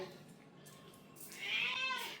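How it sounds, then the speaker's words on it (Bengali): A stray cat that wandered into a home gives a single clear meow near the end, fairly close indoors after a quiet stretch of room noise. "এই যে আরেকজনের বিড়াল আইসা আমাদের ঘরের মধ্যে যে কি ডিস্টার্ব করে"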